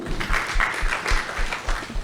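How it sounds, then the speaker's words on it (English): An audience at a talk applauds in a short burst of steady clapping of moderate loudness. "A round of applause for her as well."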